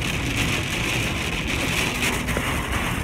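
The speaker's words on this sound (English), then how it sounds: "Everything's wet, muddy, sloppy." Steady rain patters on a surface in a continuous hiss, with a faint low rumble underneath and no talking.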